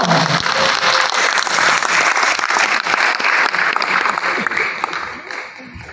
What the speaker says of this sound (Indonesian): kembali kita berikan tepuk tangan yang meriah buat pemeran Mahakarya Randai W.E. Sipono.